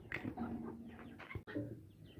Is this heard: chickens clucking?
yes